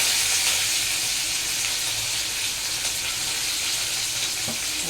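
Onions, green chillies and curry leaves sauté in hot oil for a Tamil lunch dish, giving a steady, close, continuous sizzle with a few faint stirring clicks and no talk.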